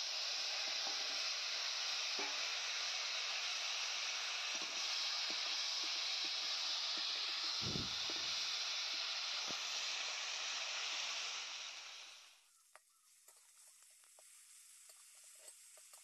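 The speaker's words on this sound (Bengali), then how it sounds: "তো শুকনো মাছগুলো ভালো করে ভেজে নিলাম" Dried fish, rubbed with salt and turmeric, frying in hot oil with a steady, loud sizzle and hiss for about twelve seconds. The sizzle then drops away to near silence broken by a few faint clicks.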